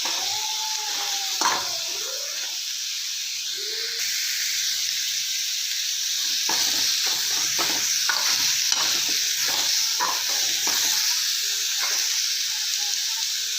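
Ridge gourd fries in oil in a pan for chutney, producing a constant close hiss and sizzle, broken by a run of quick spatula scrapes and taps as the pieces are stirred.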